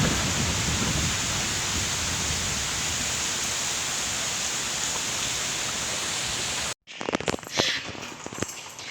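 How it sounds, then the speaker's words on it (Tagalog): Strong wind roars steadily into the microphone as a dense broadband rush, then cuts out abruptly before returning in uneven gusts. "Ang lakas ng hangin."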